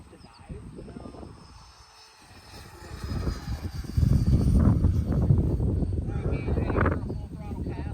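A lightweight all-PLA 3D printed model jet makes a full throttle pass outdoors, its engine roar swelling sharply from a quieter drone into a loud, sustained rush that holds steady as it passes nearby.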